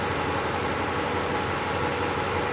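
A Honda Accord engine idles roughly with the EGR valve held open by vacuum, a dense continuous rumble that stays loud and steady throughout with no talk.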